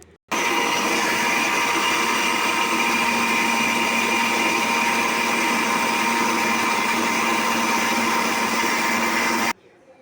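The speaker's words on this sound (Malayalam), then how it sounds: "വെള്ളം ചേർത്ത് നമുക്ക് ഇതൊന്ന് അരച്ചെടുക്കാം." Mixer grinder grinding coconut masala paste with water for a prawn curry, a steady loud whirring drone running continuously for about nine seconds with abrupt start and stop.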